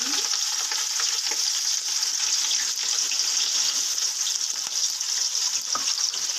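Onions have just gone into hot oil and are frying with a steady, bright, close sizzle that holds evenly throughout. Faint crackles and pops rise now and then.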